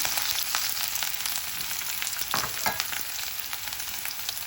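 Garlic and onion fry over high flame for veg hakka noodles, a continuous close sizzle with a few brief stirring scrapes and no talking.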